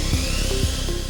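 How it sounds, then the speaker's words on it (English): A drill boring 5/16 inch holes through a poly truck fender, a loud, close, whining buzz with brief dips as the bit bites, no voices. "Drill 6 5/16 inch holes through the fender using the poly bracket as a template."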